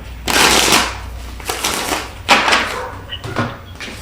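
Tarot cards shuffled by hand in a few quick riffling bursts over roughly four seconds, close and fairly loud, with brief pauses between the bursts and no talk.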